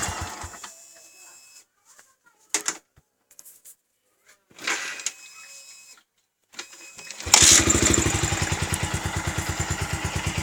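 A hot Yamaha Vixion motorcycle engine stumbles through brief uneven bursts and gaps, then catches into a loud, rapid, pulsing idle close by.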